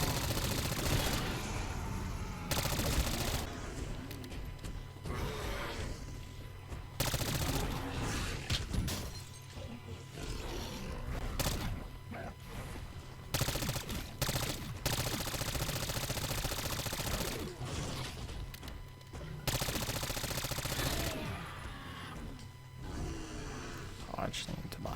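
C9 submachine gun in Black Ops 6, rapid automatic bursts firing in repeated stretches with short gaps between, loud and close, while a player talks over the action.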